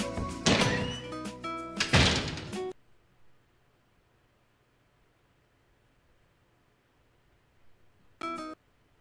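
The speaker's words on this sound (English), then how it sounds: "I take a deep breath and knock on the door again. I announce my entrance, then open the door." In the video game Fate/Extra CCC, a door opens with a couple of loud, sharp mechanical clunks and a sliding thud, followed by near silence and then one more brief clunk.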